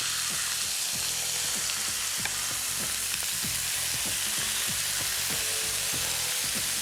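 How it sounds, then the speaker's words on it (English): Marinated skirt steak searing in vegetable oil in a hot pan, with a loud, steady sizzle and frying crackle under repeated soft clicks, no talk. "So I'll let it sear for 2 or 3 minutes on its first side, and I'm gonna flip them over."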